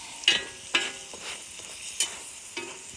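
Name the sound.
biscuits being moved around in a buttered pan over a campfire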